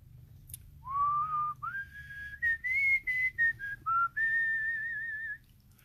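A person whistles a wavering, sliding melody of short connected phrases, close and alone against quiet low background noise.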